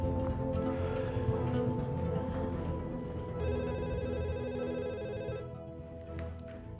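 A telephone rings on an outgoing call as a bright, buzzing burst of about two seconds. It sits over a steady low background hum and plays alone, with no talk.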